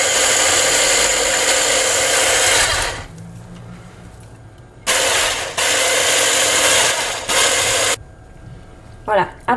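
An electric mixer whirs loudly while it blends homemade natural baby liniment to cool and thicken it, running in two long bursts separated by a quieter gap where a voice can be heard.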